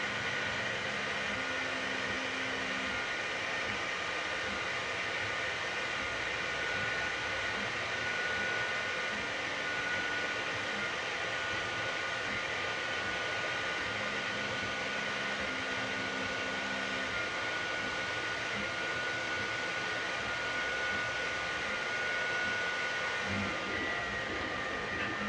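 A Sovol SV08 3D printer runs a print that builds tree-like support branches into open air, producing a steady mechanical whir and fan hum with faint motor tones, continuous and unchanging at moderate level throughout.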